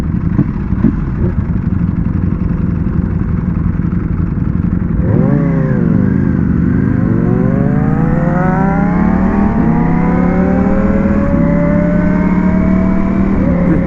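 A Ducati Panigale V4S V4 engine roars through rising and falling revs, loud and close, with a steady rumble giving way to sweeping acceleration pulls and no voices.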